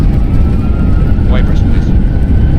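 A JetBlue airliner rolls out after landing at Boston Logan in snow, its thrust reversers giving a loud, steady, close broadband roar that runs unbroken throughout, with faint cockpit voices underneath.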